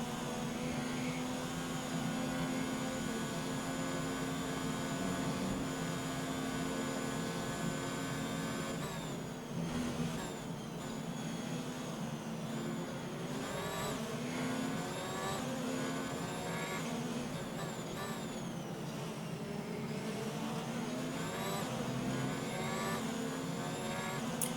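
An F1 race car engine in the racing game F1 2019 hums continuously, rising and falling in pitch through gear changes and corners, steady and prominent throughout.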